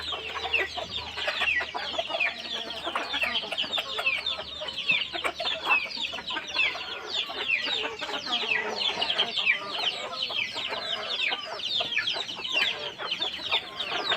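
A rooster and several multicoloured hens cluck continuously in a free-range yard in the Konkan, the dense overlapping clucks and squawks close and lively throughout.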